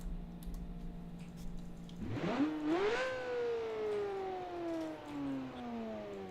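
A low engine hum rises sharply as a sports car revs up in the video game BeamNG, then the pitch slowly falls away while the engine keeps droning.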